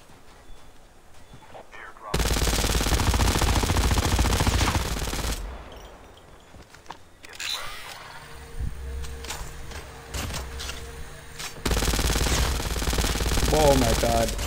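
Gunfire in Call of Duty Mobile, a battle royale match, comes in two loud sustained bursts with a quieter stretch of game sounds between them.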